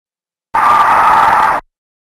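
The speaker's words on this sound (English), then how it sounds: "when it spots a target, it lets out a demonic scream" A Revenant demon from the video game Doom lets out a single loud, harsh scream lasting about a second, clipped off abruptly at both ends with nothing else around it.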